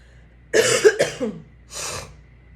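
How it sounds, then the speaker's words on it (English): Two close, harsh coughs in quick succession, then a softer third cough after a brief pause, with no talking. "Sorry about the cough."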